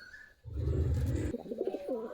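A low, soft pigeon coo rolls out close by, followed by a brief burbling call, over faint background noise.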